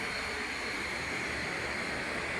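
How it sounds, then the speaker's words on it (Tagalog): A driverless passenger train rolls past with a continuous broadband rumble and hiss, steady and fairly close throughout, no voices. "Yung train nila dito walang driver."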